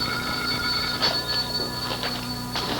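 A telephone rings in a 1986 home scene, its bright electronic trill pulsing in short repeated bursts over a quiet room tone, with no one speaking.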